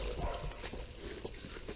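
Dogs bark in a short, close burst of yelps and woofs against a muffled background.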